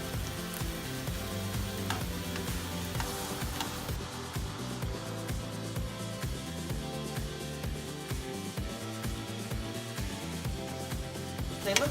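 Shrimp for shrimp scampi reheating in a pan make a continuous close sizzle, with faint clinks and shifts as they are turned over.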